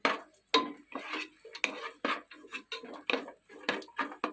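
Cashews and raisins frying in ghee in a kadai, stirred with a spoon in quick repeated metallic scrapes and clinks, a soft sizzle underneath, no talk.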